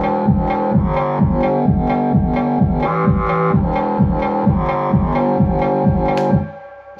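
Breakdown from a house remix with the vocal stripped out: a loud, steady four-on-the-floor kick with pumping bassline and layered synths, cutting away near the end.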